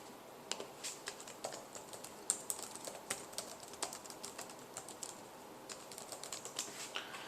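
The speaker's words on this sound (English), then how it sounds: "I'm going to type that on the test." Fingers type steadily on a computer keyboard during a math final review, a fast run of light clicks and key taps at close range with no talking.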